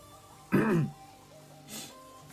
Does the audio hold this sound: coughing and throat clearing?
yes